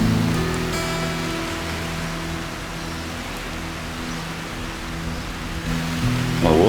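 Rain pours over a campsite during pack-up, a continuous broad wash of noise over a low steady hum, fairly close and loud, with no one speaking.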